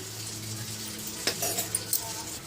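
Semiya boiled in milk with sugar being stirred in a pan, soft scraping and light clinks of a spoon against metal over a low simmering hiss, a few sharper taps near the end.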